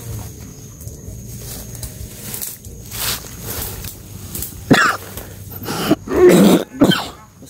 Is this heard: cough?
yes